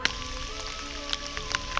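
Rain falling during a kayak portage on a Quebec expedition, a steady soft patter of drops on surfaces with a few sharper taps, faint and continuous with no voices.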